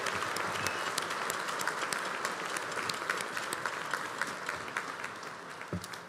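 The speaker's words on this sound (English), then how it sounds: "Can we all applaud them?" Steady, dense applause from a large audience honouring the graduating medical class at a convocation, sustained throughout and easing slightly toward the end.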